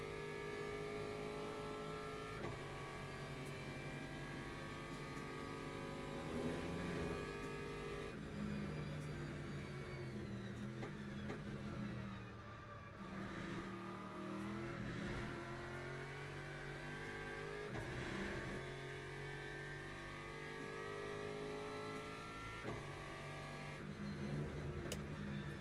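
An LMP prototype race car in the sim racing game Le Mans Ultimate revs hard through repeated upshifts and downshifts, its engine note rising and dropping in steady cycles, loud and continuous throughout.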